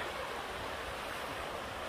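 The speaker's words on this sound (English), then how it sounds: "The water flowing down there." Steady broadband rush of a stream flowing on the Appalachian Trail, constant and fairly quiet, with no voices or other sounds over it.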